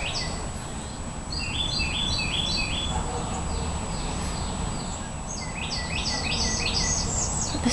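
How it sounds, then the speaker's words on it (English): Birds sing outdoors in a quiet backyard garden, repeated bright chirping phrases rising in bursts at a moderate distance over a steady hiss of insects and low rumble. "Listening to the birds."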